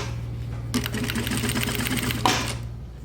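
A sewing machine stitching a needlepoint pillow, a rapid even mechanical whir of needle strokes running for about one and a half seconds after a quiet start, then stopping with a click, close up and alone.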